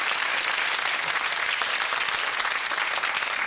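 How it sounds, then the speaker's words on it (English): A game show studio audience gives a round of applause after a contestant's answer, a dense and steady wash of clapping that stays at one level, with no talking over it. "Round of applause for the 6."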